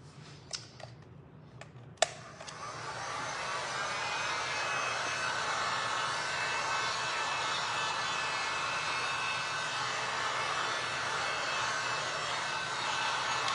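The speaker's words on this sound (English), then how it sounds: "I'm gonna hit this with my dryer for a sec" A dryer blows on a glass and resin art piece. A few sharp knocks come first, then a steady, close whooshing hum starts and holds evenly to the end.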